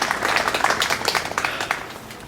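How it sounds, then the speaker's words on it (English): A crowd at a Veterans Day ceremony claps for veterans in a short, steady burst of applause, moderately loud, with a faint hint of voices underneath and no clear speech. "Thank you for that round of applause for our veterans."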